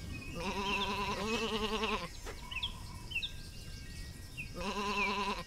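Two long, quavering bleats from a sheep in the video game Isle of Ewe, each about one to two seconds, separated by a quieter gap with faint chirping game sounds. No voices.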